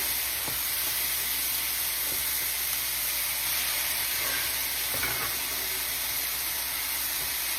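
Garlic frying in a pan hisses and sizzles steadily, close and continuous, with a few soft stirring scrapes and clicks over the constant crackle and no talking.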